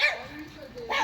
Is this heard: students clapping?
no